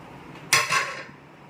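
Garlic, green chilli and onion hitting a hot pan to sauté, a single loud metallic clatter and burst of sizzle lasting about half a second, then fading to a quiet hiss.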